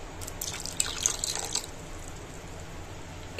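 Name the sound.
pouring water onto semolina to soak it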